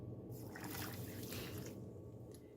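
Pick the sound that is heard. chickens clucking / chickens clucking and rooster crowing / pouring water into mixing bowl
pouring water into mixing bowl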